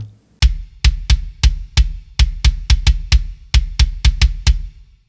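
A processed hardcore kick drum with a clipped, boosted top end thumps alone about a dozen times, punchy and loud, in an uneven pattern of quick doubles and single hits.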